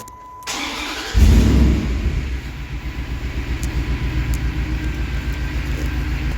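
A Dodge Dakota pickup's 4.7 Magnum V8 cranks and fires up with a loud rumbling surge, then settles into a steady, pulsing idle close by.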